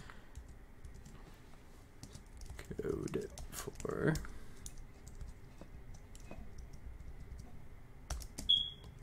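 Typing on an Apple computer keyboard, quiet scattered key clicks and taps, faint and close, with a brief spoken phrase partway through and a short high beep near the end.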